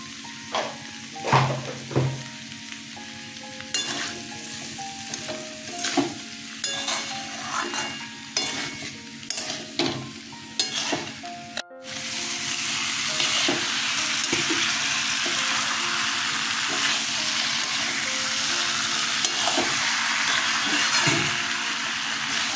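Jackfruit seed curry is sautéed in a pan with salt and sugar. Spoon scrapes and stirring clatter come in uneven bursts over a steady sizzle, then a louder continuous frying hiss takes over for the rest.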